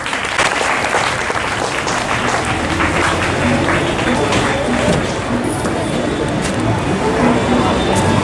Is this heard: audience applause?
yes